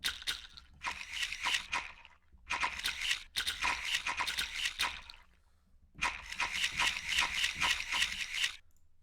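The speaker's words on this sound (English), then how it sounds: "Castanets." Bursts of rapid, bright castanet clicking rattle in three long runs separated by short pauses, crisp and close, with no voices, from a percussion sample library.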